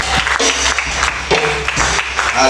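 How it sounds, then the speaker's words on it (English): A church congregation at a Tuesday morning fasting service claps hands in a loud, continuous wash of applause, with music and voices blending into the busy clapping throughout. "Clap your hand for them."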